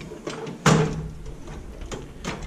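In a home garage, a drawer of screwdrivers and chisels in a tool cabinet slides open with a sharp clunk and rattle of the contents, followed by lighter shuffling knocks close by.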